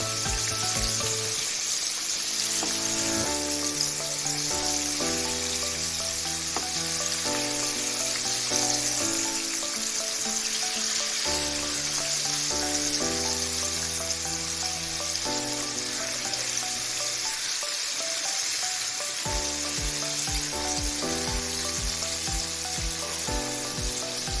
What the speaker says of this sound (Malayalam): ഇവിടെ ചെറിയ പീസുകളായിട്ടാണ് പൊരിക്കാനായിട്ട് എടുത്തിരിക്കുന്നത്.